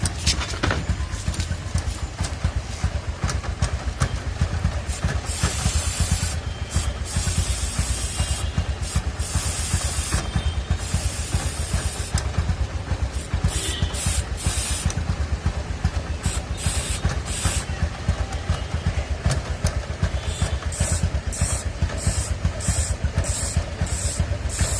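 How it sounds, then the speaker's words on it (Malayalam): Chain lubricant sprayed onto a two-wheeler's drive chain while the engine runs and the chain turns in gear; a steady, close hiss of spray sits over the continuous engine and chain noise for the whole stretch, with no talking. "ഇനി ഞാൻ സ്പ്രേ ചെയ്യുവാണ്."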